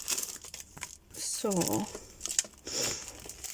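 Plastic bags holding rubber and cling stamps crinkle and rustle in bursts as they are handled, close by, with a person talking around the noise.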